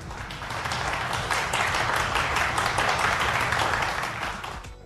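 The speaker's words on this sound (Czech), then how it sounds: "Potlesk!" A crowd claps steadily and densely for several seconds. The applause swells, holds, then starts to fade slightly toward the end.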